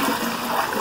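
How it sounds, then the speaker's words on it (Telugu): Village panchayat supply water pours into a storage pit, a brief, close, steady rush of splashing water with no voices over it. "దీంట్లోకి వస్తాయి మాకు పంచాయతీ నీళ్ళు."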